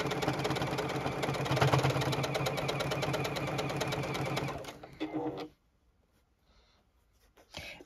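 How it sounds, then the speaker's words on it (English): A sewing machine runs steadily and close by for about five seconds while stitching the outer, wider edge of a fabric bucket hat, then slows and stops, leaving near silence with a few faint handling sounds. "And we're sewing that outer, wider edge."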